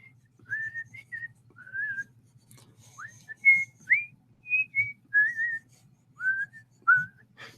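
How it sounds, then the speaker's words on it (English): A person whistles alone in a quiet room, a string of short, clear melodic phrases with brief gaps between them, close and fairly soft. "Do you like the whistling?"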